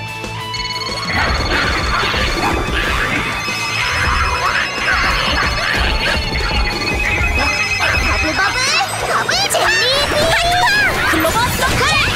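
A telephone rings repeatedly in a children's animated mermaid series, a bright electronic ringtone trilling over busy music and effects for several seconds.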